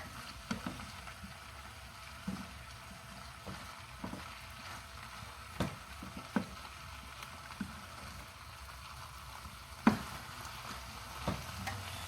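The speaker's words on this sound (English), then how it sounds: "And then we're going to stir it." Honey lime shrimp and asparagus stirred in a pan with a utensil, a soft steady sizzle under a series of irregular scraping and clinking strokes against the pan, close and moderately loud.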